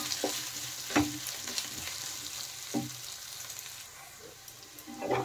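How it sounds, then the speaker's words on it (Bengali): Potatoes fry in spiced oil in a pan with a constant hissing sizzle, punctuated by occasional clinks and scrapes of stirring at close range. "আলুগুলো দিয়ে আরেকটু ভেজে নেব।"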